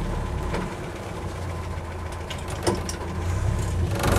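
An original 2-litre engine in a Land Rover Series 1 86-inch soft-top idling nearby, a steady low rumble with a slightly rising throb toward the end, no talking.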